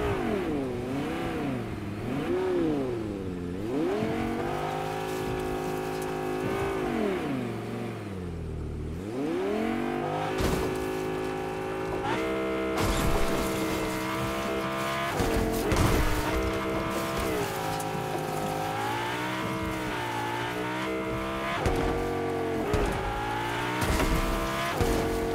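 Car driving in the game Fortnite, its engine droning and revving continuously with wavering pitch that rises and falls as it speeds up and turns, with occasional tire noise and faint voice in the background.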